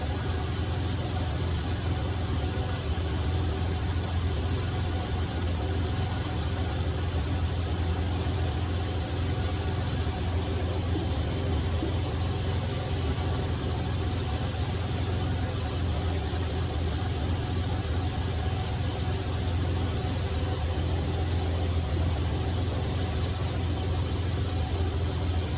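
A 1991 Ford Ranger XLT pickup engine idles steadily while its radiator is refilled after replacement, giving a constant, even mechanical hum close by with no speech.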